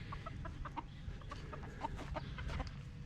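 Several chickens cluck and chatter in short bursts over a low steady background hum, nearby and fairly quiet.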